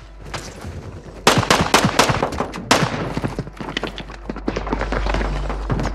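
Rapid bursts of automatic gunfire and sharp shots in a video game's Ashika Island training mission, loud and close, with thuds and dense volleys that keep on throughout.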